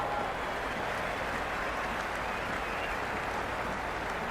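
A stadium crowd at a T20 World Cup cricket match, West Indies against Zimbabwe, keeps up a steady, distant wash of applause and cheering with no clear peaks.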